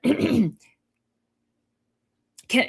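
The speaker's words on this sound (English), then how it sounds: "can I clear my throat?" A single short throat clear at the start, close and fairly loud, then near silence before a brief voice sound at the very end.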